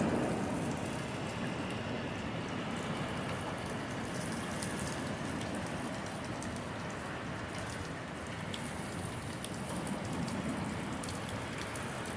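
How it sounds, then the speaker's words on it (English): Heavy rain pouring down around a house, water spilling off the gutters, a dense steady hiss of drops on surfaces with gusty rushing noise throughout, loud and continuous with no voices. "Watch the rain coming off the gutters on the house."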